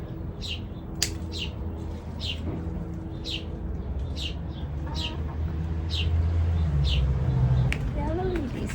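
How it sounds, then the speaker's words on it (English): Birds chirp in repeated bright calls in an outdoor garden in Los Angeles during a calamansi harvest, with a continuous low rumble and a few distant lower calls beneath. "A lot of birds right now."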